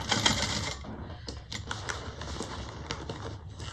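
A sewing machine back stitches a fabric bag, running in a short burst of rapid needle chatter that then breaks into quieter, separate stitch taps, close and alone.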